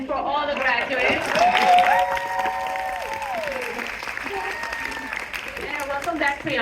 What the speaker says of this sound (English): Now you may clap again for all the graduates.